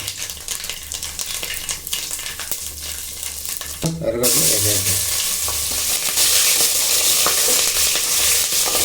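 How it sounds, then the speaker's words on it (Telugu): Mustard seeds, cumin, fenugreek and chana dal tempering in hot oil for Andhra-style sambar: close stirring and scraping in a pan, then a loud, steady hiss of sizzling oil that swells and continues to the end. "తిరగవాతకు ఆవాలు జీలకర్ర మెంతిపప్పు శనిగాళ్ళు వేసేద్దాం సాంబార్కు కొంచెం నూనె వేసేద్దాం"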